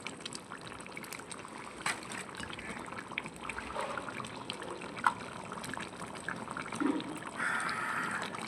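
Water poured into a pan of simmering potol chingri, a Bengali pointed gourd and prawn curry, giving a soft continuous trickle and gentle bubbling, quiet and close.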